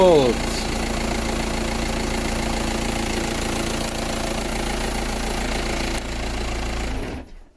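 A Volkswagen Passat B5 TDI diesel engine cranks, catches and settles into a loud, steady, clattering idle close by, running continuously until it fades out at the end; someone speaks briefly over it.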